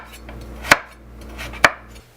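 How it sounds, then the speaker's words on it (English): A knife chops through sweet potatoes on a cutting board, two sharp, loud, close thuds about a second apart over a quiet kitchen background with no talking. "we can start peeling and chopping our sweet potatoes"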